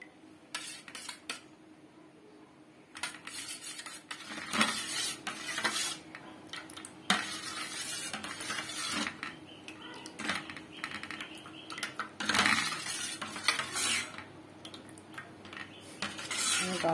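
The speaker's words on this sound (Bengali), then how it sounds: "আমি কাঁচা আমের ফুড কালার দিয়ে ভালো করে মিশিয়ে নিচ্ছি" A pot of raw mango mixture with food colour being stirred, a spoon scraping and clinking against the metal in repeated bursts, close and fairly clear with no speech.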